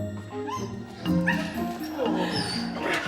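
Several dogs barking, yipping and whimpering at an airport animal reunion, the excited calls overlapping and repeating throughout, close by and mixed with people talking over them.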